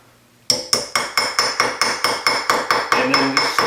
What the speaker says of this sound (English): And then just slowly tap your way around.